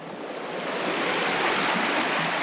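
A creek near a waterfall trail in Marin rushes close by, a full, steady wash of flowing water that swells slightly and holds with no voices.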